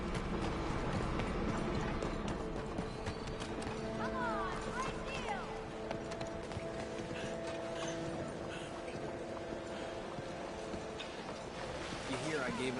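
Horse hooves clip-clopping in Red Dead Redemption 2, a continuous clatter of steps under a busy layer of game ambience and music-like tones, fairly faint and steady throughout.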